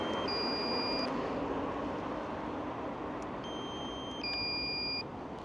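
Repeated high electronic beeps from a smoke alarm with a low battery, each about a second long, sounding twice a few seconds apart over a steady background hum.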